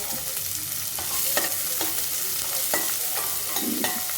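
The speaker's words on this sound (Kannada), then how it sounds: "ಸಣ್ಣಗೆ ಹೆಚ್ಚಿಟ್ಕೊಂಡಿರೋಂಥ ಈರುಳ್ಳಿನ ನಾವು ಎಣ್ಣೆಗೆ ಹಾಕ್ಕೊಂಡು ನೀಟಾಗಿ ಬಾಡಿಸ್ಕೋಬೇಕಾಗುತ್ತೆ" Finely chopped onions sautéing in hot oil after mustard seeds have popped, for Andhra-style pappu, a loud continuous sizzle broken by repeated scraping stir strokes of a spoon, with no one talking.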